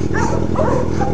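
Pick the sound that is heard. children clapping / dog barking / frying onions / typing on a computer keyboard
dog barking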